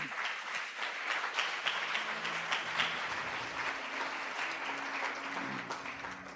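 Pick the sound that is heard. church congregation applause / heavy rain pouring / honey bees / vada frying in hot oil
church congregation applause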